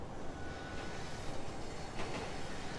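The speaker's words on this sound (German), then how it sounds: "So, da fahren wir unsere U-Bahn hier gerade." A subway train runs through a modded Los Santos in GTA 5, giving a steady, loud, continuous rail rumble with a faint metallic clatter. No voices are heard.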